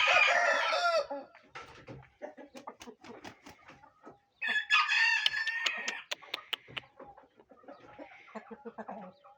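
A rooster crows twice, loud and nearby, with a stretch of clucking and scattered fowl noises between and after the calls.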